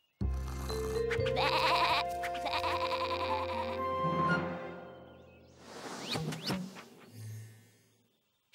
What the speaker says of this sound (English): Little Bo Peep lost her sheep.